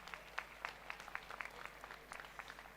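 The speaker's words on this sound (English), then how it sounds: "Can you please give a round of applause to yourselves" Audience applause at a university distinguished alumni awards ceremony, scattered distinct claps forming a light, somewhat distant patter that holds steady throughout.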